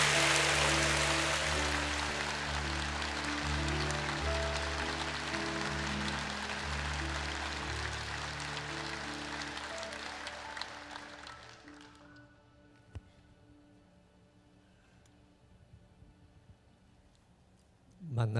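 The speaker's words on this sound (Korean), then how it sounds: "큰 박수와 환호성으로 기대하는 마음으로 맞아주시기 바랍니다" A congregation at a Sunday worship service at Manna Church applauds and cheers to welcome a guest professor, a dense, loud wash of clapping that fades out after about twelve seconds, leaving near-silence.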